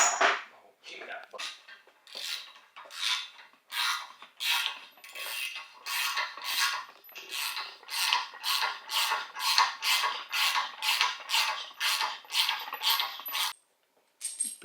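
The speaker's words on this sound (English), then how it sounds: "Just gotta chase that thread real quick." A tap or die scrapes through a rusty threaded hole in a vehicle frame, giving a close metallic rasping that repeats in steady strokes, quickening toward the end before stopping.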